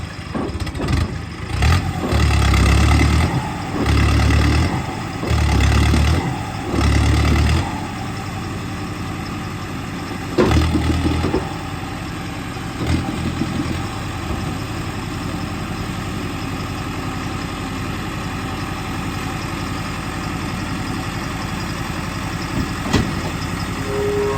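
A tractor engine rumbles close by, throbbing in a few loud pulses at first before settling into a steady idling drone.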